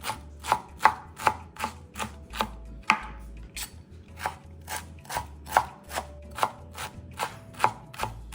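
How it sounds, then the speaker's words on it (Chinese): Squeezed-dry cabbage being finely chopped with a knife on a board, a run of crisp, evenly spaced chops about two per second, close and clear, with no voices. "将挤干后的包菜切细一些，这样成品会比较入味"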